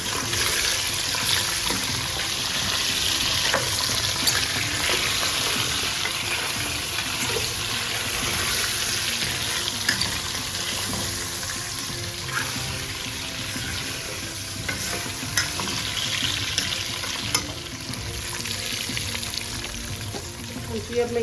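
Potatoes sizzle in hot oil with mustard seeds and spices for aloo ki sabzi, a steady close hiss and crackle that runs throughout with faint clinks.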